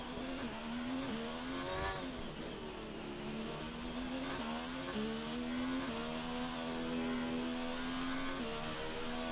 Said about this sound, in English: Couple cars coming out on track now.